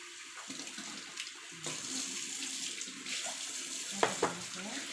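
Tap water runs steadily into a sink or basin to soak sliced pork for a papaya soup, a close, continuous hiss and splash with a few light knocks near the end.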